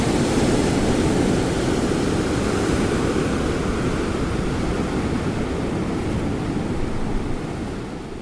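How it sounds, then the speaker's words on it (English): Atlantic Ocean waves at Mouille Point, Cape Town, near the V&A Waterfront: a dense, steady roar of surf close by, loud and continuous, fading slightly at the end, with no voices. "You've just heard the sound of the Atlantic Ocean in Mully Point, not far from the V&A waterfront"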